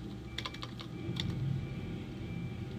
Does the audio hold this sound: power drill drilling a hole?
no